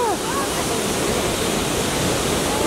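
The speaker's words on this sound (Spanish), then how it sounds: "Y aquí cae el agua." Waterfall at Canyon Sainte-Anne in Québec, heard from a lookout as a steady, loud, broadband roar of falling water that fills the whole clip without a break.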